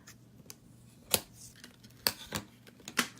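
Scissors cutting shimmer ribbon for card making: a few sharp, crisp snips, close and distinct, spaced irregularly over a quiet background.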